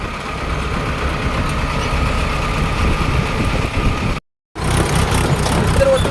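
A tractor engine drones steadily and loudly while driving toward a poultry farm on a windy day, with a brief cut-out of sound near the end before the engine noise resumes.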